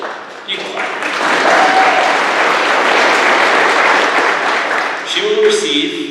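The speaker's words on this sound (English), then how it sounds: "You can clap." An audience at an awards and scholarship night breaks into steady, sustained applause that swells and holds for several seconds before a voice resumes speaking as the clapping dies down.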